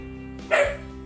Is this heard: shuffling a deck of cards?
no